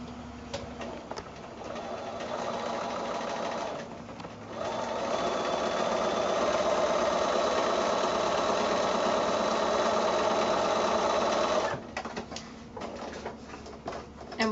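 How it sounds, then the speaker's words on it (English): A sewing machine runs steadily, stitching seams on either side of a center line on a quilt pinwheel block made from 5-inch squares, with a long continuous whir close by and brief pauses at the start and end. "we're going to sew both of those lines either side of that center line"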